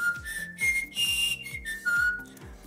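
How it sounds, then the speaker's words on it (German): Melodic human whistling, a string of clear notes rising and falling, with a low accompanying pulse underneath; no talking. "die verschiedenen Töne meines Pfeifens"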